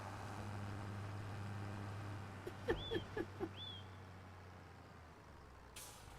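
Worn-out tractor in Farming Simulator 25, a faint, steady low engine drone running throughout, with a short cluster of clicks and squeaky mechanical noises partway through.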